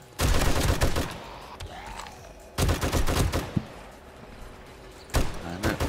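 Automatic turret gunfire in the 7 Days to Die game, loud rapid bursts of shots in three clusters separated by quieter stretches, with faint background noise between volleys.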